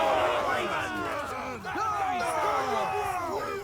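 A large group of costumed medieval reenactors lets out a sustained, loud cheer on command at a mock battle event, many overlapping voices shouting together in a dense crowd roar that dips briefly near the middle and then surges again.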